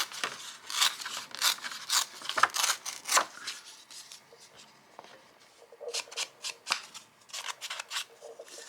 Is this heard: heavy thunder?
no